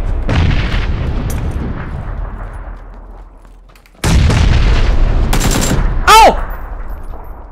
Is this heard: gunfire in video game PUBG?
yes